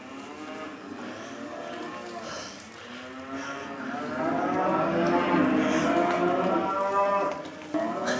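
Cows moo repeatedly on a farm, long, loud, drawn-out lowing calls overlapping one another at close range over a steady outdoor background.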